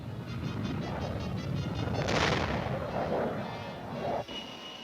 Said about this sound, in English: American-trained Chinese pilots riddled enemy MiGs with American Sidewinder missiles, which performed as well in battle as in this demonstration